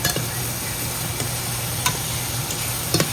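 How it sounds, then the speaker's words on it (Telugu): Onions and ginger garlic paste frying in a pan as they are stirred, an even, constant sizzle with a few light clicks of the spoon against the pan. "ఈ అల్లం వెల్లుల్లి పేస్ట్ కూడా ఆనియన్స్తో పాటు ఫ్రై అవ్వాలి."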